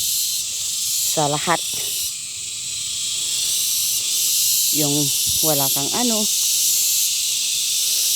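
Steady high insect trilling of crickets fills a forest in Cavite, continuous and fairly loud throughout, with someone talking briefly over it in two short bursts.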